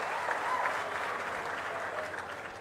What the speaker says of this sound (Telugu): గట్టిగా చప్పట్లు కూడా అభినందించండి